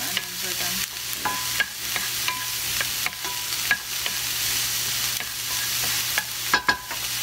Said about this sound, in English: Add in the green pepper. Mix for a little bit.